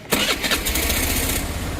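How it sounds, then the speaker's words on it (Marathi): A Suzuki Burgman scooter engine cranks and catches, then settles into a steady, close idle hum; the scooter has an engine fast-idle issue. "तर आता गाडी ऑन करतो मी"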